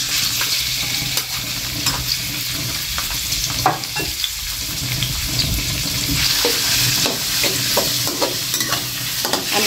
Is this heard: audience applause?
no